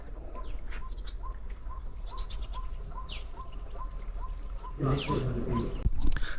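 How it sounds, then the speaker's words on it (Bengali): Birds in the Sundarbans mangrove forest call in a steady, evenly spaced series of short chirps over a low hum, with a burst of other bird calls near the end and no voices. "দেখো আমি চুপ হয়ে যাচ্ছি দেখো কিচ্ছু নেই শুধু পাখির কলরব ছাড়া"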